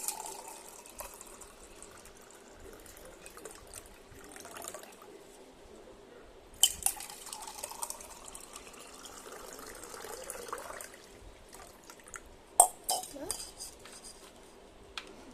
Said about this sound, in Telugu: తర్వాత ఐస్ వాటర్ వేసుకోవాలి ఫ్రెండ్స్